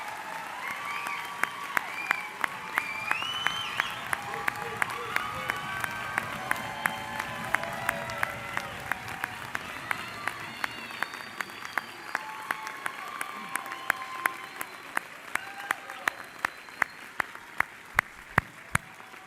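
Sustained applause from a commencement audience honoring graduates of a university's business and teacher-education schools, a dense steady wash of clapping from a large crowd with sharper individual claps standing out, continuing for the full stretch without speech.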